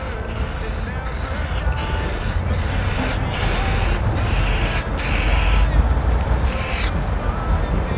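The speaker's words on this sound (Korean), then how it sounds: "자, 이렇게 덧뿌리기 한번 하고 촉촉하게 뿌려주세요." Sprayable PPF protective film misted onto a car's fuel door, heard as a run of loud, close hissing bursts separated by short pauses, with a brief quicker series near the end.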